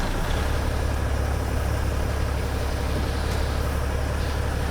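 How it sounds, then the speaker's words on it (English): A Cummins N14 600 diesel engine in a truck in American Truck Simulator drones at a steady, loud idle-to-cruise rumble, continuous and even throughout with no talk. "I do have the Cummins N14 600 back inside the truck here"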